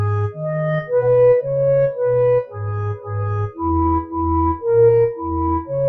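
Music transcribed from the score painted in Hieronymus Bosch's painting, played as a slow melody of sustained tones with deep bass notes, roughly one note per half second, loud and steady with no talking.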